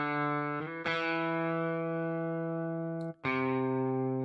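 Virtual guitar from the Evolution Guitar Engine plays sustained, manually sequenced slides between notes, with one pitch glide early and a fresh attack near the end, clean and moderately quiet.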